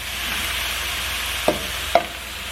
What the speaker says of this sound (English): I'm going to put this down on low heat. I'm going to throw in some broccoli.